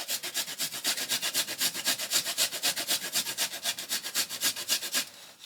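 Fresh ginger is rubbed against a box grater in a rapid run of rasping strokes, about five a second, close and even, with no talk, until the grating stops near the end.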